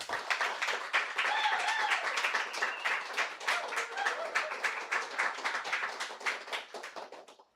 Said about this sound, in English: please give a round of applause to Crow Daughter